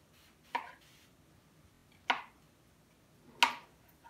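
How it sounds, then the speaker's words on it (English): A knife cuts a banana into slices with three crisp, separate chops spread over a few seconds. The cuts are close and fairly soft against a quiet room, with no talking. "I cut us this banana in the slices"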